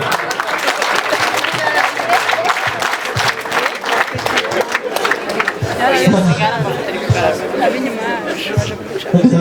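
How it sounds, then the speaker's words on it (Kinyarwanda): Guests at a Rwandan wedding applaud in a steady, dense burst of clapping, with crowd chatter and murmuring mixed underneath throughout. "abantu bose batashye ubukwe bwa George na Jessica ko bemerewe gukoma amashyi"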